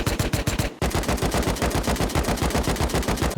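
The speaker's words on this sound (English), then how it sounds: "The final changes related to guns was a set of new sounds for quite a few of them being added." Rapid automatic gunfire from one of the reworked, higher-quality weapon sounds in the survival game Rust, a loud, evenly spaced stream of shots that briefly pauses and then continues alone.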